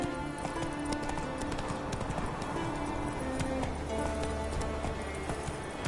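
Hooves of Roach, the horse in The Witcher 3, clip-clop steadily through a galloping run, a continuous close rhythm over game ambience, with no one talking.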